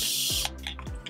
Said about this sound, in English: We have the spray bottle that lets out